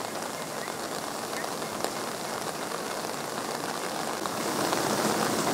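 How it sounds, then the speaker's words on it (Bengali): A heavy downpour over Kolkata during Durga Puja, under dark clouds, gives a dense, continuous hiss of rain hitting surfaces, steady and fairly loud, swelling slightly near the end, with no talking. "সেই সঙ্গে মুষলধারে বৃষ্টি শুরু হয়।"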